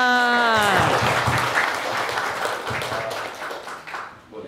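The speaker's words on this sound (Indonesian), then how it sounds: "Tepuk tangan." Applause from a seminar audience bursts in as a voice trails off, a thick clatter of clapping that gradually thins and fades toward the end.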